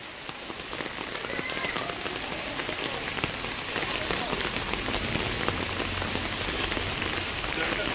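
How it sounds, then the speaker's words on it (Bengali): Heavy rain pours down as a loud, dense patter on surfaces, continuous throughout, with faint voices underneath. "তাড়াতাড়ি, বৃষ্টি খুব জোরে নামছে।"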